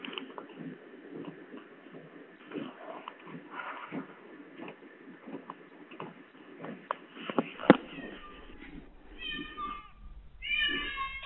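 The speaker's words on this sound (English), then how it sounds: "Oh, kitty." A cat meows several times near the end, short rising harmonic calls in quick succession, after a stretch of muffled shuffling and indoor background noise; people talk faintly earlier.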